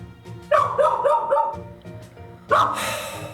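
A dog barks in a game, giving a quick series of loud, sharp barks, then a pause and one more strong bark near the end, with no talk over it.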